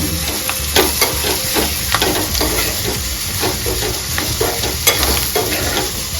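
Roasted fenugreek spice mixture stirred in a pan with oil, a steady close sizzle broken by repeated scraping strokes of the spoon at an uneven rhythm, with no voices.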